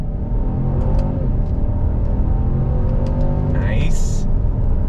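A 2022 Genesis GV70 sport SUV pulls away hard from a dead stop using paddle shifts, its engine rumble building loud and close with rising revs and a quick shift, as someone speaks over it.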